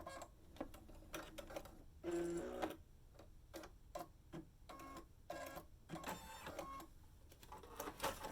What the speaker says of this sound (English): you can see that the machine is stitching out the placement stitch